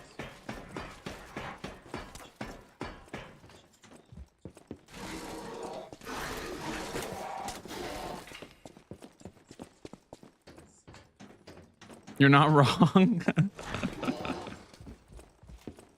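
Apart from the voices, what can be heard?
footsteps on stone in the Lies of P video game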